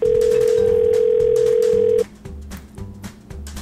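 A steady telephone dial tone sounds loud and continuous for about two seconds at the start of a prank call, then cuts off, leaving quieter room noise with faint clicks.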